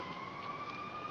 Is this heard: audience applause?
no